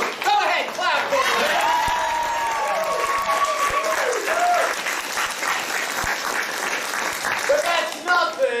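A theater audience at a live improv comedy show applauds steadily and loudly throughout, with some voices and cheers mixed into the sustained clapping.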